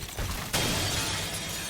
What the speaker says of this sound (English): here comes the glass shattering again